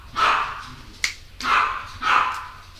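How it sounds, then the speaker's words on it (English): Dogs bark loudly and close in three sharp, separate outbursts spaced about a second apart, with a brief snap-like click between the first two and no talking. "dogs going nuts."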